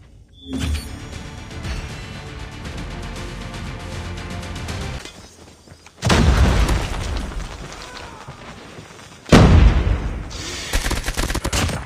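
A frag grenade goes off in the mobile shooter game Call of Duty: Mobile. Loud booming blasts arrive in sudden bursts, each with a rumbling tail, among gunfire and other game sounds.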